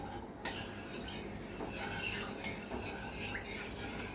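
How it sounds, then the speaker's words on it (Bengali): Sugar being stirred into cake batter in a bowl for a jelly cake, a steady soft scraping and faint clinking of a spoon against the bowl, continuous and fairly quiet, with no voices. "এবার এটাও আমি এর সাথে ভালো করে মিশিয়ে নেব।"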